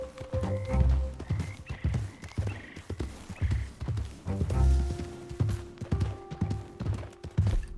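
Horse riding in Red Dead Redemption 2: repeated clip-clop hoofbeats and low thumps of a galloping horse, with a brief whinny, heard close and steady alongside game sounds.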